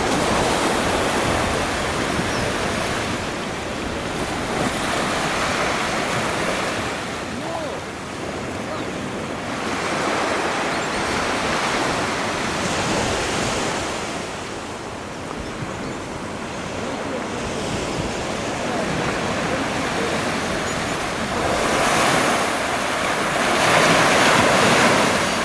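Ocean surf rolls steadily onto the beach at Sandals Grande Antigua in Antigua, a continuous broad wash of breaking waves with gusts of wind noise on the microphone, swelling periodically over about twenty-five seconds with no voices.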